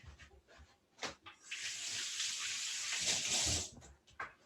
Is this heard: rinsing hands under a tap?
yes